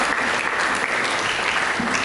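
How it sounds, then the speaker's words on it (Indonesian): A church congregation claps together during a sermon, a steady, close, even roar of applause filling the whole moment with no break. "Mari kita berikan tepuk tangan bagi Yesus."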